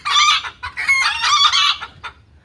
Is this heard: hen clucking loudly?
yes